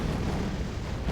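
Dense, continuous low rumble of tank cannon fire and explosions on a Wargame Red Dragon battlefield. The booms blur into one heavy, steady roar with no distinct single shots and no talking.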